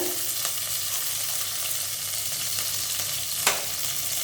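Continuous loud sizzling and crackling of curry leaves frying in hot oil with mustard and fenugreek seeds, close up, with a faint clink partway through.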